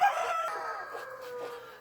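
Chickens on a small farm with broody hens, a rooster crowing close by in one drawn-out call that tails off, alone without talk.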